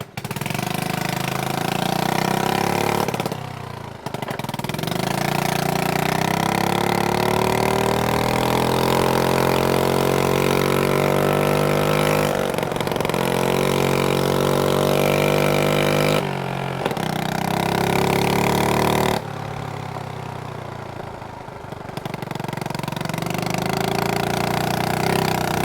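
A 1986 Honda Z50RD mini motorcycle engine starts and runs near and loud, a steady buzzing idle with short dips and revs over about twenty-five seconds, with no talking.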